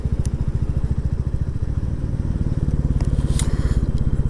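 A Royal Enfield Classic 350 single-cylinder motorcycle thumps along on a ride through quiet Yorkshire villages, its close, loud, rapid pulsing exhaust beat steady throughout with brief wind bursts.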